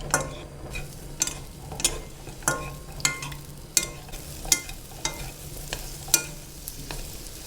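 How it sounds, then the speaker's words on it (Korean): Burdock root stir-fries in a pan with syrup. A spatula scrapes and taps against the pan at a steady rhythm over a low sizzle, heard close up and without speech. "그래서 이렇게 조금 볶다가"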